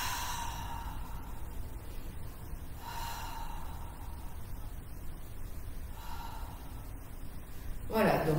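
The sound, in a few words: deep breathing exercise in Pilates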